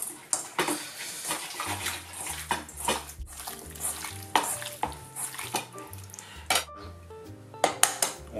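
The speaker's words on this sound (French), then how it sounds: "On va déjà mélanger ça." Chicken and soy sauce are stirred together in a bowl, giving repeated wet squelching and clinking knocks in irregular rhythm, close and fairly quiet, with no talking.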